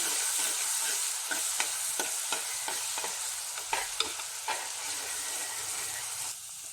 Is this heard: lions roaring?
no